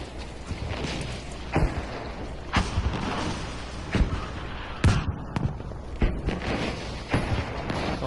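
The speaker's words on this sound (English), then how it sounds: "Ooh, artillery strike." In the Battlefield V game, an artillery strike lands as a series of sharp booms and thuds, spaced irregularly every second or so over a continuous background rumble.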